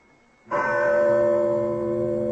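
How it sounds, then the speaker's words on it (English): Large bell rung to summon the servants as a radio drama effect, a single loud struck toll that bursts in after a quiet moment and rings on with a long sustained, slowly fading hum. "Well, that is quite a bell to summon the servants"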